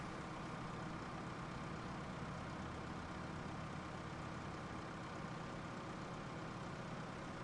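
A tractor engine in Farming Simulator 2015 drones at a constant low idle-like hum, steady and unchanging with no speech over it.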